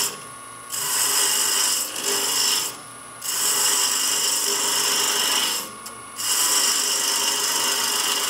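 Shallow gouge cutting wood on a lathe, a steady rasping scrape in three long passes with brief pauses between, close and fairly loud with no talk.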